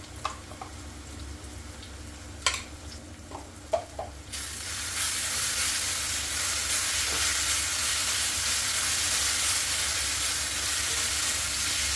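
Ginger garlic paste hits a hot pan with softened onions, setting off a sudden loud, steady sizzle after a few sharp knocks of a spoon against the pan.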